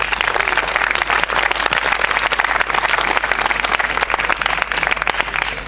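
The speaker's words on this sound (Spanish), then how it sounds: "Un aplauso para ellos, por favor." Sustained applause from an audience at a tennis tournament, honouring the casino's directive board members, steady dense clapping throughout with no talk over it.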